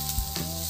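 Fried rice with mustard greens, cabbage and egg sizzles steadily in a hot pan, a brief close burst of frying with a stirring scrape, no voices.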